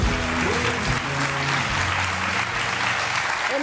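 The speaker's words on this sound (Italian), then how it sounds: "E noi ci uniamo a questo applauso." Dense studio audience applause from a live Italian daytime TV talk show, steady and loud throughout with a faint voice underneath.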